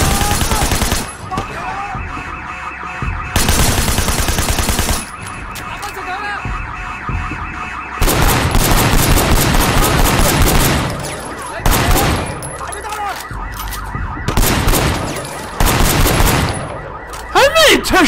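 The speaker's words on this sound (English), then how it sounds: "How many shots does this guy fucking need?" Gunfire in the video game Sleeping Dogs, loud bursts of rapid shots in several clusters, alternating with quieter stretches of game sound and a steady high alarm-like tone.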